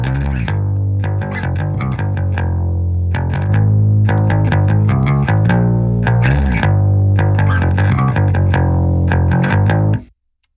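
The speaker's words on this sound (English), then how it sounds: "So as you can see, the distortion adds to the thickness of the sound." Thick, distorted electric guitar from a mix, with distortion and a parallel effects send adding room ambience, playing loud sustained power chords with rhythmic strumming for about ten seconds before stopping abruptly.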